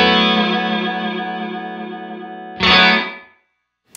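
A sustained, distorted guitar chord through a Fender Reflecting Pool reverb pedal on its short small room setting rings with a short, tight reverb tail, then a sharp strum cuts off quickly into silence.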